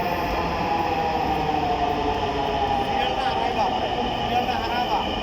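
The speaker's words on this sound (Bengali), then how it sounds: "Wow, metro rail." A Dhaka metro rail train rumbles loudly and steadily, with faint wheel squeal over a constant roar that stays close the whole time.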